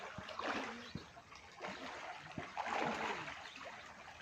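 Water flowing and trickling in an outdoor stream, a soft continuous rushing with small splashes and gurgles, fairly faint and close, no clear talking.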